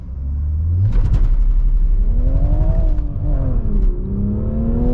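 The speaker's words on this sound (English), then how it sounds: "First gear, build up some revs." A manual Toyota Supra's engine revs up loudly in first gear, pitch rising and falling through the rev range with a deep rumble and some tire noise.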